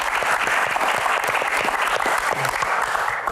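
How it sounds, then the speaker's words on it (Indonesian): An audience applauding a panelist at a Q&A session, dense sustained clapping from a crowd that stays loud and even throughout without any talk. "Tepuk tangan dulu buat Cherly"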